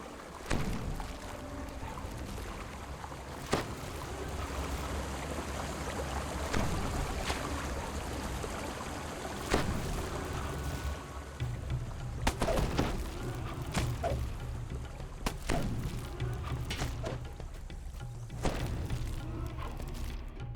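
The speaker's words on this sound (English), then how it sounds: "As you open the valve, the muffled sound of gears turning can be heard from the water below." Gears turn beneath the water in the video game Dungeons & Dragons Online, a muffled, steady low rumble and hum with scattered dull thumps throughout, no talking.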